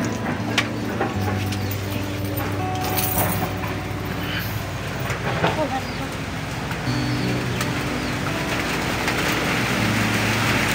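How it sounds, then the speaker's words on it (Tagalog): Steady rain patters continuously while a dove or pigeon coos repeatedly nearby and people talk now and then over the downpour. "Ayan na po, ang ulan."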